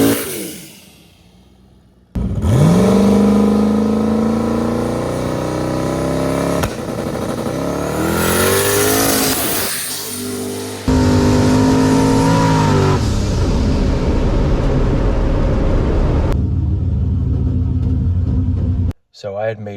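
A drag race car with an SBE 4.8 engine makes a pass, its loud engine droning and rising as it revs through the gears, a sustained roar that cuts off abruptly near the end.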